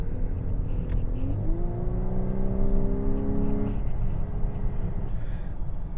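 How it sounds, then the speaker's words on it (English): A 2024 Volkswagen Atlas turbocharged four-cylinder engine accelerates with a steady rising drone and a gear change about a third of the way in, loud and continuous without talk. "it's a 4-cylinder engine. It's got that turbo that kicks in"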